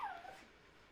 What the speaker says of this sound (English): Stupid dogs.